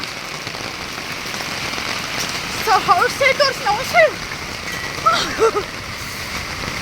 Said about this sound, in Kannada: ನೋಡಿ ಆಲಿಕಲ್ಲು ಹಾಗೆ ಮಳೆ.